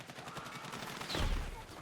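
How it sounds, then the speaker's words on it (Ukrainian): Rapid automatic gunfire from the Battlefield 6 video game rattles in a fast, even burst, followed by a louder, closer blast near the end. "Дайте тут постріляю чуть-чуть."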